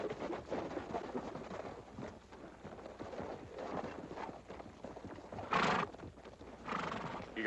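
Horses whinny loudly over a steady clatter of hooves in a scene from the Western TV series Bonanza, with wind and outdoor rumble throughout; a sharp neigh rises near the end.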